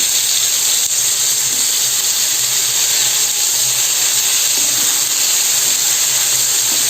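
Chopped tomatoes hit hot oil with fried bay leaf and green chillies, giving a loud, continuous sizzling hiss that holds steady throughout, with no talking.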